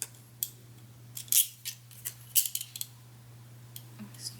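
Mini scallop-edged craft scissors snip through paper in a quiet room: a series of short, crisp cuts at irregular intervals, close and fairly soft, over a steady low electrical hum.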